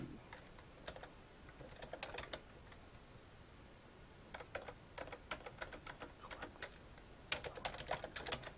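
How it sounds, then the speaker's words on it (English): Bursts of computer keyboard typing as code is entered, quick clustered keystrokes separated by pauses, close and fairly quiet, with no talking. "Let's type that in here, make a little comment"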